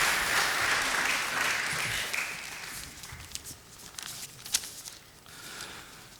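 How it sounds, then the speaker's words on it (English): Applause welcoming panelists at a peace conference in Oslo, strong at first, then fading into sparse scattered claps and a few taps. "Please give them a warm applause."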